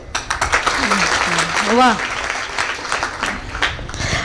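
An audience at a Marathi public talk applauds with steady, close clapping throughout, while a voice briefly calls out over it.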